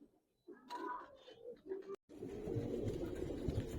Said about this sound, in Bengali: এই যে খয়রা কবুতর দেখেন ভাই